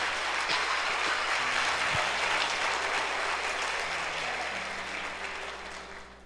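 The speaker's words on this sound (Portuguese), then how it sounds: "Então dê um aplauso ao Senhor Jesus." A church congregation at a Sunday service applauds with sustained, dense clapping that fills the room and slowly fades toward the end.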